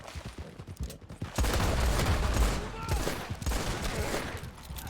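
Rapid bursts of gunfire crackle in quick succession in Red Dead Redemption 2, dense and loud, with brief pauses between volleys.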